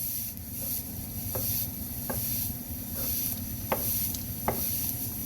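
A spoon stirs chili ingredients in a pot, a steady scraping swish with faint sizzling underneath and several small clinks against the pot, close and continuous, with no talking.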